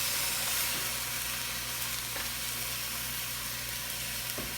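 Venison shanks seasoned with onion and garlic brown in a Dutch pot, giving off a loud, continuous sizzle and hiss close by, broken only by a few faint knocks.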